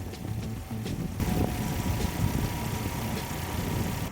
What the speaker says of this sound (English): Rough idling, floating RPMs and vibration are common problems